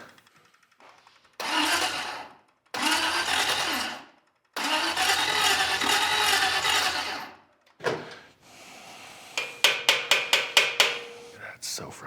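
A secondhand Packard engine's starter cranks slowly in a garage, in several long, loud churning bursts separated by pauses. A faster run of sharp rhythmic knocks follows near the end.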